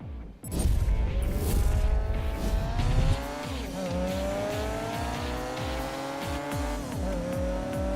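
Race cars in the Ridge Racer Unbounded video game, a loud roaring engine revving up with tire squeal at the start, then a sustained whine with repeated gear shifts and pitch sweeps, alone and close.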